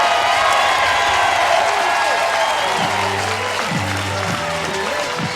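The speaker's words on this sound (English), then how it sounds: "you hear the roar of the crowd on every out so far" Softball stadium crowd at a Women's College World Series game roaring and cheering after an out, a steady loud wash of noise with a commentator's voice talking over it partway through.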